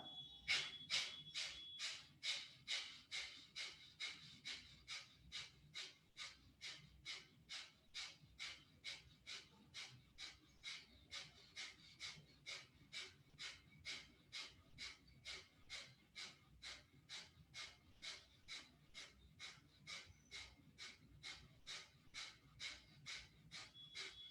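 Fast, forceful nasal breathing strokes repeat evenly about twice per second for a long run of roughly fifty, each a sharp hissing exhale, close and alone with no talking.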